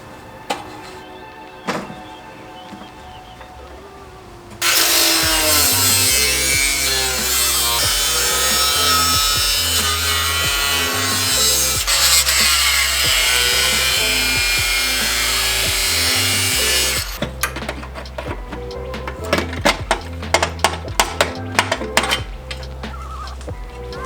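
A power cutting tool trims away metal under the hood of a Toyota Tacoma pre-runner to make room for a shock install. It starts with a few knocks, then gives a loud sustained grinding whine for about twelve seconds, followed by sharp clanks and taps.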